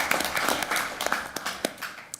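Scattered applause for Dr. Reed at a Board of Regents meeting, a fairly quiet, thin patter of a few hands clapping in a room, with some sharper individual claps standing out.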